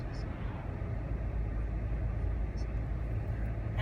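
A car cruises along the German Autobahn, a steady low road rumble and tire roar heard from inside the cabin without a break.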